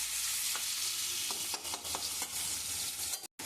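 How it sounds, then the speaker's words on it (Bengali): Chopped onion frying in a pan after dried red chillies, a steady close sizzle with several soft scraping stirs in the middle and a sudden cut near the end. No voices are present. "দিয়ে আমি এবার পেঁয়াজ কুচি দেব। পেঁয়াজটাকে ভাজবো।"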